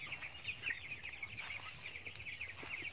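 Late-batch chicks on a farm peeping, a dense overlapping chorus of high chirps, steady and moderately close, with no talk.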